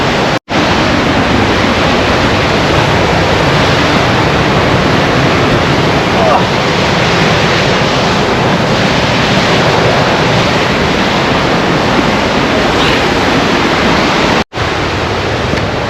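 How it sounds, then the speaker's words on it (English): Cauldron Snout, a long cascade swollen after heavy rain, roars as a loud, continuous broadband rush of water, steady and close throughout with no voices. "England's longest waterfall. Technically not a waterfall, it's defined as a cascade."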